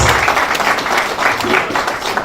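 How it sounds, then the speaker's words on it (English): A room full of guests at an official courtesy visit gives a round of applause, a dense, continuous patter of many hands clapping at moderate loudness, with faint voices mixed in. "A round of applause, please."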